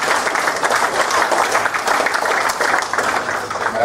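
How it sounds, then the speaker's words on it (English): Members at a business association AGM give a full round of applause, many hands clapping in a dense, fairly loud burst that stays even across the few seconds. "a big round of applause for our supporters"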